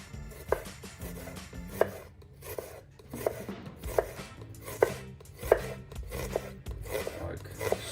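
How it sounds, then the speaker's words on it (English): A knife slicing a peeled vegetable on a cutting board, a steady series of crisp chopping taps about every half second to second, close, with a voice talking quietly underneath. "So I'm going to slice mine"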